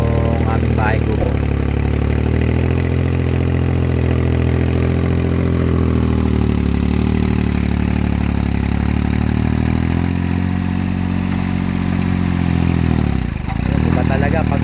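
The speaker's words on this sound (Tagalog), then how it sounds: "Diba talaga pagka merong makina medyo mabilis yung pagbungkal ng lupa." The engine of a soil tilling machine runs on a lemongrass farm, a steady droning mechanical hum that holds even for the whole stretch, loud and close, with a short dip near the end and a voice talking over it.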